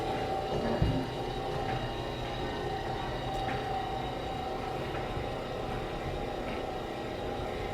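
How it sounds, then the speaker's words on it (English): A Hobart meat slicer runs with a steady, even motor hum that holds at a constant level and does not change, with one small knock near the start. "then you turn the Hobart Slicer on. You should hear a hum when it's on"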